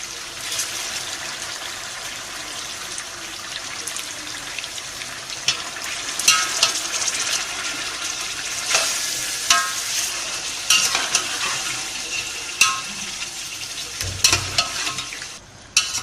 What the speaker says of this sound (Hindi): थोड़ा सा इसको हमने भुनाई करी है लहसुन अदरक के पेस्ट में